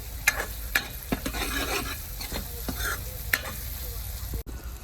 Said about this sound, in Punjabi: ਹੁਣ ਇਹਨੂੰ ਐਨ ਭੁੰਨ ਲੈਣਾ ਤੜਕੇ ਨੂੰ